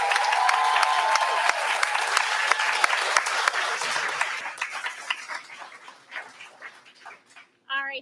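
An audience at a barista competition gives a burst of loud clapping that thins out into scattered claps and dies away, ending with a short separate sound.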